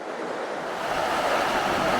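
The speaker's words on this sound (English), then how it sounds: "these very cool boulders that have fallen into the Spearfish Creek and created a bit of a water diversion" Spearfish Creek rushes and churns around fallen boulders, giving a steady, dense wash of flowing water with no voices.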